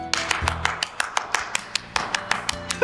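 A small group claps for a children's shadow puppet show, a string of sharp, evenly spaced claps close by with no talking.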